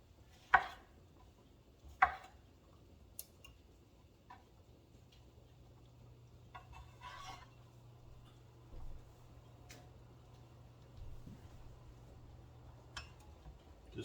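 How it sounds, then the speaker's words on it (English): A knife chops tomato on a cutting board in a home kitchen, with a few sharp, separate knocks near the start and quieter taps and scrapes following over a low steady hum. "So right now we're just gonna get these tomato cut up right here."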